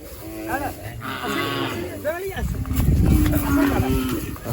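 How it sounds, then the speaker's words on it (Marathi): Several cows moo close by at a cow shelter in Goa, long low calls overlapping one another, with rustling and movement in the background. "तर हे बघा आता गाया आलेल्या आहे"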